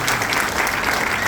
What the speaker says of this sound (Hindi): एक बार मैं जोरदार ताली चाहूंगा